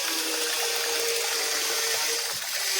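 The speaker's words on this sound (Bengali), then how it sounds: "তাই আজকে একটু ভালো করে ফ্রেশ করে স্নান করে নিচ্ছি ঘন্টুবাবু" Water runs in a steady stream while a pet dog is bathed, a close, continuous splashing rush with no pauses.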